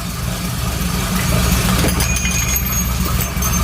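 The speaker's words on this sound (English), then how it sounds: "Boom, it's idling." A 1986 IROC Camaro engine idles roughly after a new wiring harness was installed, a steady loud low rumble running throughout without a break and with no talking.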